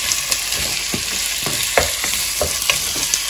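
Meat sizzles steadily in a pot on top of onions, a loud, even frying hiss broken by regular scraping and clicking from stirring, close up with no talking.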